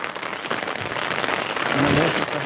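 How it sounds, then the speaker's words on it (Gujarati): Heavy rain pours steadily during a thunderstorm at a house by a highway, a dense hiss of drops with a swelling low rumble near the end; no one speaks. "આપણે ચાલુ વરસાદની અંદર લાઈવ આપી રહ્યા છીએ"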